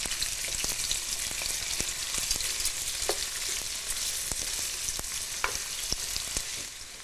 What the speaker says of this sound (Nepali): अब यसलाई चाहिँ तार्नुपर्छ. एकछिनसम्म रातो हुने गरेर तार्नुपर्छ.